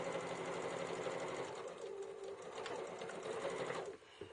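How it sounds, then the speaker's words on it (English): A sewing machine stitches diagonally from corner to corner across jelly roll fabric strips, a steady fast rattling hum that rises and falls slightly before stopping near the end, close and fairly quiet. "I'm going to stitch from corner to corner."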